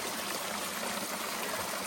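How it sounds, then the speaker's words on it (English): A small waterfall trickles down rocks on a mountain trail at Mt Greylock, a soft, steady wash of running water heard alone at low volume. "It's got a little water coming down the rocks."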